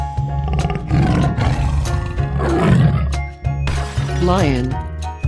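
Tiger roar in a 3D animal video game, a loud growling roar sweeping upward near the end over steady game music and other layered effects, with a voice speaking at times.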